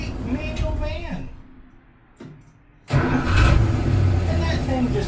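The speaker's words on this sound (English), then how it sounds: "A running, driving V8 manual van." A 1965 Dodge van's V8 engine with a manual gearbox, after years of sitting, cranks and fires, dropping briefly before catching into a loud, steady rumbling idle close by, with a voice heard at the start.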